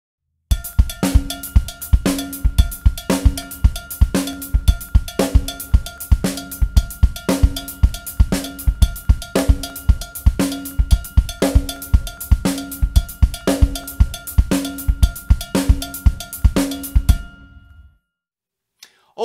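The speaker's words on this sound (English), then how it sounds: "my right hand is playing on my cowbell, which is over here, and my left hand is going to be playing on my hi-hat" A steady drum groove with a bright cowbell pattern and tight hi-hat ticks over kick and snare, played alone and loud, stopping cleanly at the end.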